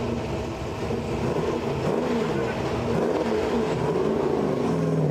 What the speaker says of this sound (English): You cannot beat a V8.